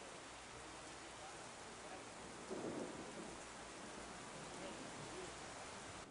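Heavy rainstorm in San José, steady broadband rain hiss throughout with a low thunder rumble swelling near the middle, no talk.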